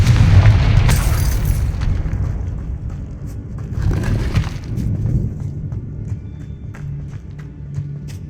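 A Confringo fire-blast spell explodes in Hogwarts Legacy with a heavy booming burst and rumbling crackle that fades over several seconds, followed by softer footsteps and ambient game sounds.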